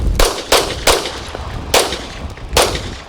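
Five sharp pistol shots from a Wilson Combat handgun during a carry training class at a range in Fowlerville, Michigan, fired at an uneven pace. Each crack is loud and close with a brief decay.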